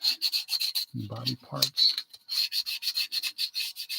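Plastic model car body parts being sanded by hand in quick, rhythmic rubbing strokes, close and fairly loud, with a brief stretch of speech partway through.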